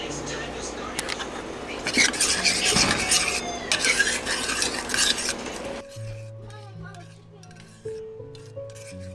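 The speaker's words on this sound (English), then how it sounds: "I'm gonna stir together" Chicken wings are stirred in a pan with a utensil, scraping and clinking against the metal over a light sizzle, then quieter clinks as a person speaks near the end.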